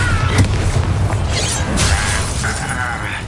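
A Bombarda spell explodes in Hogwarts Legacy with a loud crashing boom and shattering burst, layered with rumbling impacts and mechanical clatter that fill the whole stretch at high volume.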